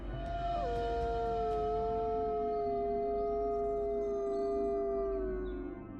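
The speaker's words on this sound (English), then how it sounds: "Suddenly, the wolf howled super loudly, and the sound echoed through the hills and valleys." A wolf howls loudly in one long sustained gliding howl lasting several seconds, rising briefly then slowly falling, with a low rumble underneath.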